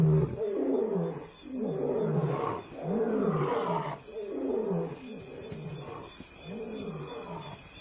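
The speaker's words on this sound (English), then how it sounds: "Their roars travel further after dark when the air is cooler." Male lions roar at night near the Luangwa River, a series of deep, rhythmic roaring bouts that swell and fade, repeating about five times at moderate distance with no voices.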